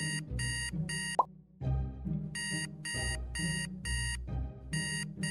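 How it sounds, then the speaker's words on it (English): An alarm clock rings in repeated bursts of rapid electronic beeps with short pauses between them, loud and close, over a low background hum and one soft plop. "There are people that never wake up after the first alarm and hit snooze constantly."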